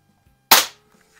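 One sharp, loud shot from a Diana model 6 air pistol fired outdoors, a sudden crack with a short decay, surrounded by near silence.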